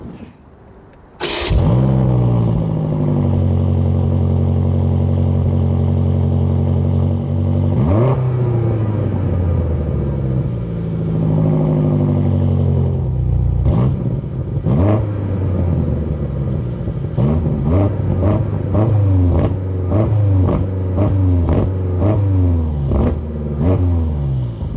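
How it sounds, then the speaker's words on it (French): A BMW M5 Competition V8 fires up with a sharp burst, then settles into a loud, deep idle broken by repeated throttle blips and revs, becoming a rapid series of short revs toward the end, heard close from behind the car. "Comme ça, vous profitez déjà de cette sonorité du V8."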